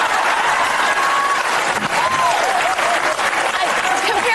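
A crowd claps in a thick, continuous burst with cheering voices and a few whistles rising through it, loud and sustained throughout.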